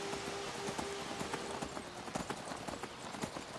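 Horse hooves clip-clop steadily while riding in the video game Skyrim, a continuous close rhythmic clatter layered over rain and ambient game noise.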